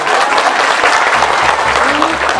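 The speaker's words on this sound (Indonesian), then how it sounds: "Tepuk tangan buat adik." Loud, dense applause from a crowd at an outdoor religious dhikr gathering and groundbreaking ceremony in Brebes, Central Java, with steady clapping throughout and a faint voice underneath.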